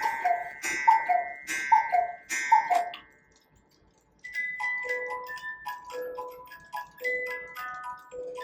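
A cuckoo clock in a clock shop sounds clear and close, first with several repeated two-note tones separated by pauses, then after a brief silence a tinkling mechanical tune plays.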